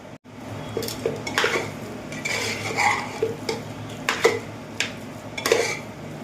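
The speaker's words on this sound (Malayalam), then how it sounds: "ഇതിൽ ഉപ്പിട്ട് ഇളക്കാം" A spoon scrapes and clinks against a pot as salt is stirred into soft, mushy cooked rice for curd rice, with irregular close metallic knocks and no voices.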